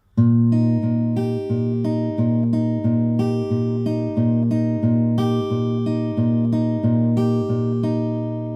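A fingerpicked acoustic guitar plays a steady, repeating chord pattern with the bass note on the sixth string on each beat, clear and close with no voices.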